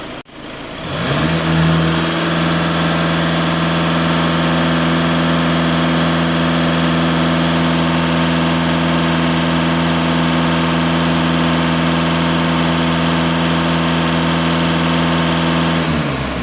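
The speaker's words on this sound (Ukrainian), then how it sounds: "Зараз, поки на витяжці автомобіль працює" A Skoda Kodiak 2.0 TDI diesel engine starts and then idles steadily and loudly up close under a workshop exhaust extractor, a constant low hum with no voices.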